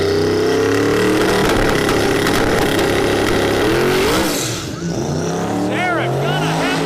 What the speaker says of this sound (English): Twin turbo modular motor powered GT500